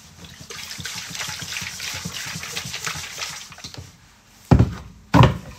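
A small splash of water is swirled around inside a blender jar to rinse it while making a tomato base for chicken tacos, giving a steady sloshing trickle followed by two louder gushing pours.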